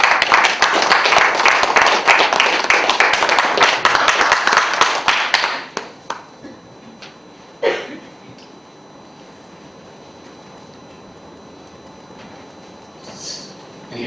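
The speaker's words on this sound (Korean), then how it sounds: "큰 박수로 맞이해 주시기" Audience of council members at a training lecture clapping warmly to welcome the lecturer, a dense burst of applause lasting several seconds that abruptly stops, followed by a quiet room with a few stray taps.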